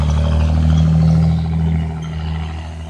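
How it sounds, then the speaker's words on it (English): A bus drives past loudly on a street, a heavy engine roar that is strongest early and slowly fades as it moves away. "I'm letting the bus pass by because that's loud as hell"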